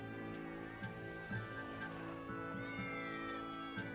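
A cat meows several times in a row, close by, during a Game of Thrones Telltale Series playthrough, with game ambience and music tones steady underneath.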